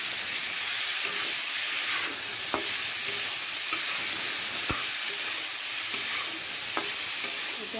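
Pork sizzles loudly in a pan with ginger, garlic and raw onion, a constant dense frying hiss with occasional scrapes and taps of stirring and no talking.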